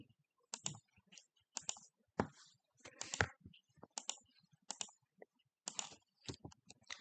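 A computer keyboard being typed on, a command entered in quick bursts: sharp, close key clicks arriving in irregular clusters with short pauses between them, quiet and isolated with no talk.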